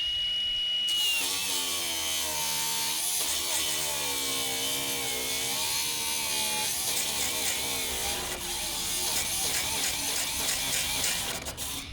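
A battery-powered cutoff tool fitted with a regular cutting disc spins up and grinds continuously through thick aluminum on an old Milwaukee box, a loud, close, harsh whine with shifting pitch as the disc bites.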